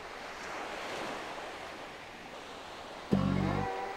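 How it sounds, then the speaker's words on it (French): Ocean waves wash onto a seashore in a continuous rolling roar with gusty wind noise, ending in a sudden brief loud tonal sound near the end. "Le bruit que vous entendez, c'est le bruit des vagues."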